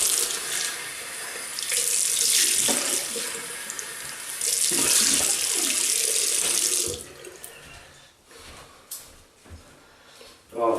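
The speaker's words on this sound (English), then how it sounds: "And we'll rinse off." Running tap water rinsing off wool fat shaving soap, a strong steady splashing stream for several seconds that then cuts off into scattered drips and small knocks near a sink.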